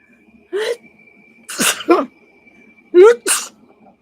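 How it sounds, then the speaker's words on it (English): A sharp, close sneeze with short breathy gasps around it, loud against a quiet room with a faint steady tone underneath. "I'm going to sneeze"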